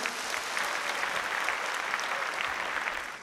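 An audience at a talk event applauds its speakers, a fairly quiet but even, continuous patter of many hands clapping, holding steady and then tapering slightly at the end.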